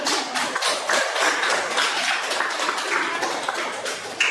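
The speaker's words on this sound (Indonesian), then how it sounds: "tepuk tangan untuk" A junior high school class claps together for a group of students, a busy, even patter of many hands filling the room at moderate loudness.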